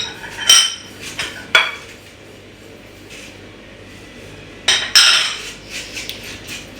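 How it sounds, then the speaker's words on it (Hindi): A whisk clatters against a bowl of chicken tikka marinade in short bursts of metallic clinks and scrapes, with quieter stirring between strokes. "इन सब चीज़ों को आपने विस्कर की मदद से अच्छी तरह से वेल कंबाइन करना है।"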